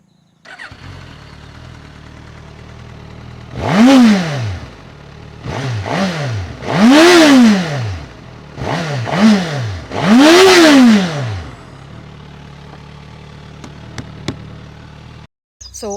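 A Suzuki Katana motorcycle engine idles steadily, then revs up hard in five sharp blips, each one climbing and falling back to idle. The sound is close and loud, with no talking.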